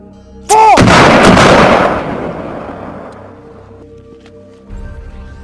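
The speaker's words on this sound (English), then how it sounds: "what happens if North Korea launches another missile?" Missile launch in a video game, a sudden loud rising whoosh and blast that roars, then decays into a fading rumble over several seconds, with a faint low hum continuing underneath.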